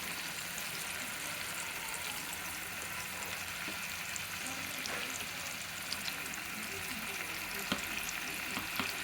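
Turmeric and ginger garlic paste fry in a pan for a malai kofta curry, giving a continuous close sizzle with scattered small pops and crackles, steady throughout, with no one talking.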